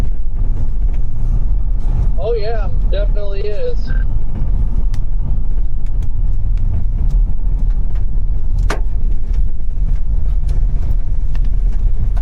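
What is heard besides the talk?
hail hitting a car during a supercell storm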